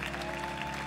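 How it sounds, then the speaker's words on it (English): A worship congregation claps together in a large, packed hall during a live service, a steady, dense burst of applause filling the whole moment. "Come on, let's clap, y'all."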